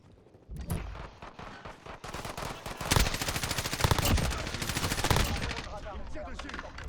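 Rapid automatic gunfire and explosions from a Call of Duty multiplayer match, dense bursts of shots crackling loudly over game audio, with a player talking over it.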